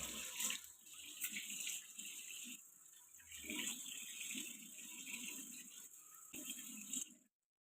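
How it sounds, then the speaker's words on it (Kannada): Tap water runs and splashes steadily as someone washes their face at a sink, the flow broken by brief pauses and scooping splashes before it cuts off abruptly near the end. "ಕ್ಲೀನಾಗಿ ವಾಶ್ ಮಾಡ್ಕೊಂಡ್ಬಿಡ್ತೀನಿ ಈ ಕಡೆಯೂ ವಾಶ್ ಮಾಡ್ತೀನಿ"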